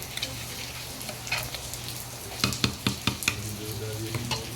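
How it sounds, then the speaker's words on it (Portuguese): Stirring a large batch of canjica in a pot with a faint bubbling sizzle underneath, punctuated by a few quick scraping knocks of a spoon against the pan. "De vez em quando a gente vem e dá uma mexida pra não grudar muito no fundo"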